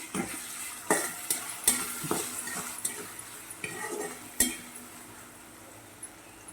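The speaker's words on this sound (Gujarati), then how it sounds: "હવે આપણે તેમાં ટામેટાં નાખી દેવાના છે ને બરાબર મિક્સ કરી દઈશું" Tomatoes tipped into a hot pan and stirred, with a steady sizzle and repeated clinks and scrapes of a utensil against the pan, close and clear with no talk.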